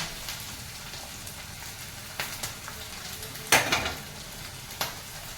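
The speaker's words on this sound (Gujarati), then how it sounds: "એ ફ્રાય થાય છે ત્યાં સુધીમાં આપણે બીજા ગેસ ઉપર વઘાર મૂકી દઈએ." Vegetables frying in oil for Gujarati undhiyu: a continuous crackling sizzle with scattered louder pops and spits, close and unaccompanied by speech.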